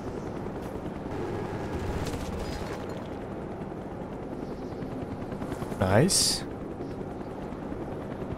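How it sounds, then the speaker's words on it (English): In the game Black Ops 1, an attack helicopter gives off a steady rotor drone under bursts of gunfire and explosions, with a sharp rising whoosh late in the clip, while a player speaks briefly. "I think it's just an attack chopper."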